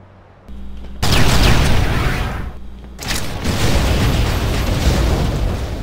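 Heavy explosions from the video game Red Faction: Guerrilla, where missions involve blowing things up, boom loudly one after another into a continuous roar of blasts and crumbling debris.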